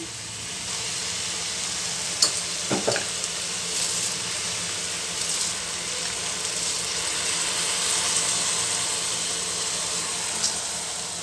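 Soaked rice added to a pan with chili and turmeric powders gives a soft, even sizzle with a few brief clinks and scrapes of stirring near the start, with no talk.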